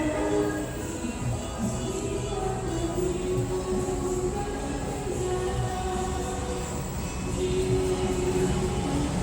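The Kahuripan passenger train rumbles steadily into Madiun station, Indonesia, with a constant low mechanical drone and faint squeals, loud throughout, no talking.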